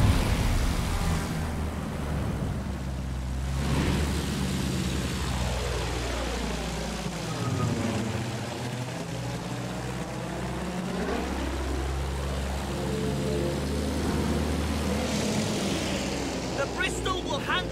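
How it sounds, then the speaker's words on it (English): Propeller engine of a Bristol biplane in the video game Battlefield 1, a steady droning hum with rising and falling pitch sweeps as it passes or banks, continuous throughout under faint game ambience. "The Bristol will handle like the other planes. Less throttle means you can make tighter turns."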